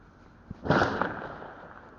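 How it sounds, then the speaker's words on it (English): A single sharp crack followed moments later by a louder, harsh burst of gunfire that rings out and decays slowly, recorded close and somewhat muffled on a security guard's body-worn camera. "The second security guard wore a body-worn camera during this incident, and it captured the gunfire as well."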